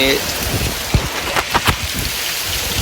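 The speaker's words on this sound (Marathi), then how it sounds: "आता पाऊस चांगलं पडतो" Heavy rain pours down outdoors over rice fields, a dense steady patter with a few louder thuds of drops hitting a nearby surface.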